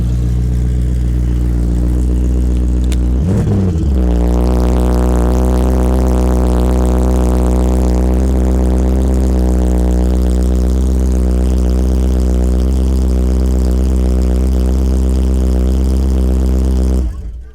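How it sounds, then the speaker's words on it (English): Engine of an Artz Opel Kadett E GSI built on a Corvette C4 chassis, revving hard after a sharp start and then holding a loud, steady, throaty drone close by. "a Cadet E GSI on a Corvette C4 chassis engine. Oh, just listen to this."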